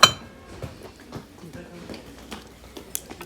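Melamine plates handled at a cheap goods market clink lightly a few times, with a sharp knock at the start and small scattered taps, heard under steady talking.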